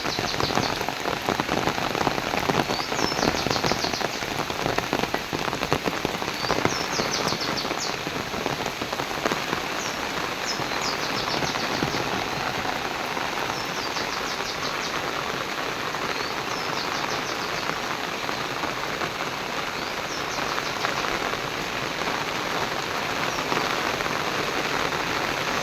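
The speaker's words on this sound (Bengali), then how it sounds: "এত পরিমাণ বৃষ্টি।" Heavy rain pours down in a steady, dense outdoor downpour, drumming evenly on surfaces throughout, with faint bird chirps now and then in the background. There is no talking.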